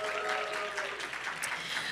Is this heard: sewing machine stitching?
no